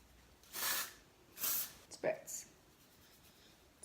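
Two short aerosol dry shampoo spray bursts onto sectioned hair in quick succession, followed by a soft hiss and faint rustling, close to the microphone.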